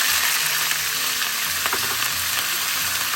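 Curry leaves and onion paste fry in hot oil in a pan as a steady, loud, crackling sizzle that fills the whole stretch without pause.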